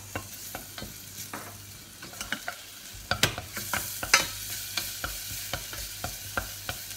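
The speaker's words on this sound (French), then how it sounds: "Maintenant, on va cuire les crevettes." Shrimp with minced garlic cooking in a hot pan: a steady low sizzle broken by regular, close scraping stir strokes that grow a little louder toward the end, with no talking.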